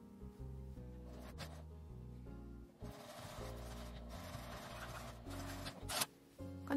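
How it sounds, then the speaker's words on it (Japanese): A sewing machine stitches a seam with a 1 cm allowance on cut cloth for an L-zip mini wallet, running in several quick motor bursts that change pitch, with short pauses and a soft handling sound between runs. "端を1センチの縫い代で縫います。"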